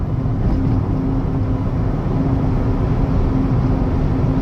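A Smart Fortwo EV cruising at 80 on the highway gives a constant loud cabin roar of road and wind noise, steady and unbroken with no talk.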